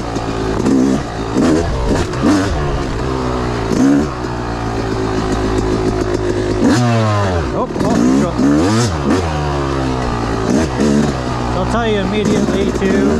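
A Yamaha YZ 250 dirt bike with a woods setup revs hard while being ridden. It is loud and close, with the engine pitch sweeping up and down under quick throttle bursts and a steady buzzing drone between them.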